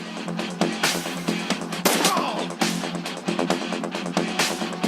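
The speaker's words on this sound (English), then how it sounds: "let's hop behind this and shoot this dude" Several gunshots ring out in the Shadowrun Returns video game during a gang fight, sharp separate cracks at irregular intervals over a steady game background, moderately loud, with no voices.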